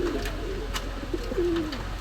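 A pair of Pakistani pigeons cooing in a pigeon shop, with a clear, close coo rising out of a steady low background hum.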